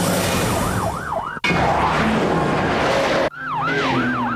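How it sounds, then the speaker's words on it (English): Loud wailing police sirens sweep up and down close by, cut by abrupt breaks, with a harsher rushing siren burst in the middle. "The shriek of sirens on the quiet night warns the countryside a high-speed pursuit is in progress."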